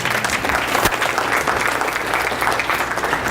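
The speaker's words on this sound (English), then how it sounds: "You can clap. That's all right." Audience applause at a Brain Injury Alliance speech event, a loud, sustained burst of many people clapping close by, steady for over three seconds with no talk.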